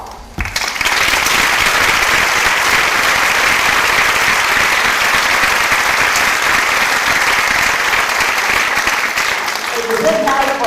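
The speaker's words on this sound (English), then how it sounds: "let's bring them all out again for one more look and one more big round of applause" Sustained, dense applause from a crowd greeting all the contestants of a 2011 Miss and Little Miss Strassenfest pageant, steady and loud for about ten seconds before fading as a voice returns.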